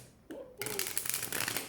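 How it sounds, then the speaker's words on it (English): Tarot cards being shuffled by hand, a quick riffling flutter up close after a short voiced sound, continuing steadily to the end. "Do you see that shuffle?"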